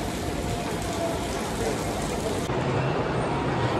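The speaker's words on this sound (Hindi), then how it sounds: "लेकिन इस वक्त बारिश हो रही है" Steady rain pours outside a five-storey shopping mall in Malaysia, a dense continuous hiss mixed with distant road traffic, holding constant throughout.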